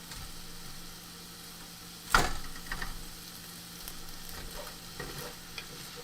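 Onions frying in a pan for hamburgers, a constant close sizzle broken by a sharp scrape and clatter as a utensil pushes clumped chunks apart, then a few lighter stirring knocks.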